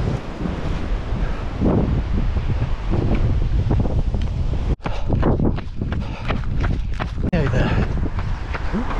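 Heavy wind buffets the microphone of a runner during an ultramarathon, a loud, continuous rumbling roar with gusty swells and brief dropouts, while footsteps and a voice sit faintly underneath.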